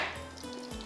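Thin slices frying in a pan, a faint steady sizzle with soft, brief crackles and a low hum underneath.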